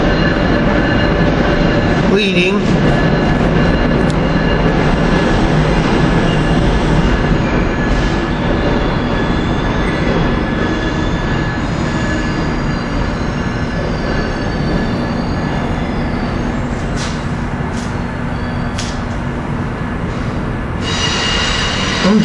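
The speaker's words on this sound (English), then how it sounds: "Here we got Keystone Train 667 leaving" Amtrak Keystone train 667 pulls out of 30th Street station in a continuous loud rumble of rolling wheels and engine, with a sharp clatter early on and brief squeals later, and a voice speaking briefly.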